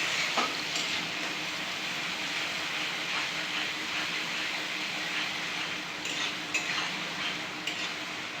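A pan of fish with cumin and chili powder being stirred over heat, a quiet continuous sizzle with soft scraping and a few faint utensil clinks.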